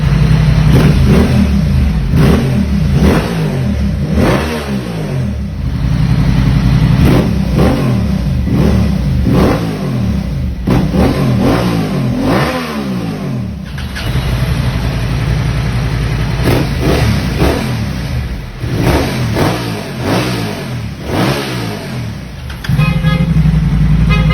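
Loud Honda Transalp 750 motorcycle exhaust revving repeatedly, engine pitch rising and falling in quick throttle blips over a steady rumbling idle, close up with no talk.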